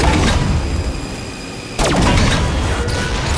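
Gunfire and an impact strike a generator in Halo 5, with a steady roar of combat noise, then a sudden loud blast near the middle of the clip and continuing heavy rumble afterward.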